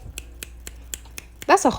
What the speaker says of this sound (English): That's a whole snap right there